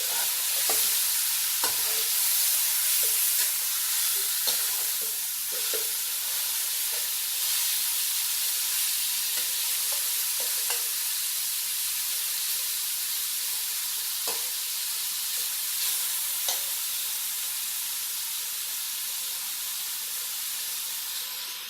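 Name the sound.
camel meat being stir-fried (bhuna) in karahi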